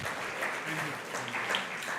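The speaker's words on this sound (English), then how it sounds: "A heartfelt round of applause to you, sir." An audience applauds an award recipient at a university Kalpataru Day and chancellor's birthday celebration, a steady moderate patter of clapping with faint voices mixed in.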